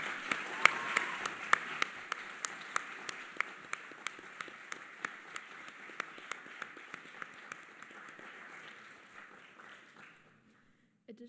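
Applause from a conference audience at a model UN opening ceremony, heard at a moderate distance. A steady patter of many hands includes a few sharper claps close by, then fades out to near silence at the end.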